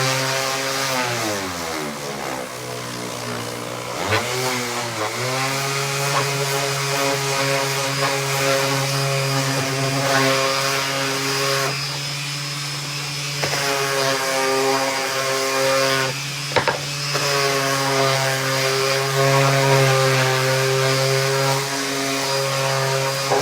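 A random orbit sander works wood for a horizontal bee hive, giving a loud, steady motor whine with strong overtones. The pitch wavers and briefly drops a few times as pressure on the workpiece changes.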